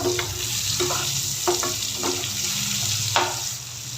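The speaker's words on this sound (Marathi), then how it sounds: "दोन मिनटं आपण तेलावर ही कारली परतून घेतली ना की त्याच्यामध्ये जे आपलं वाटण उरलेलं ना ते ॲड करायचं आहे आणि परत एकदा व्यवस्थित असं मिक्स करून घ्यायचं" Bitter gourd (karela) sautéing in oil with a ground paste, loud, steady sizzling and frying with several scraping stirs of the spoon against the pan.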